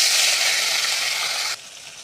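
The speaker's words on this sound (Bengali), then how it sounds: "এখন মাছ ছেড়ে দেবো তেলেতে" Fish dropped into hot oil in a wok, a loud dense sizzle and crackle that cuts off abruptly near the end, close up and without speech.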